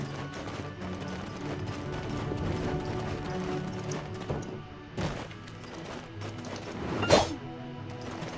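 Horse hooves clip-clop in the online game Black Desert Online, a steady trotting rhythm at moderate level, broken by a dull thud midway and a sharper crash near the end, no talk.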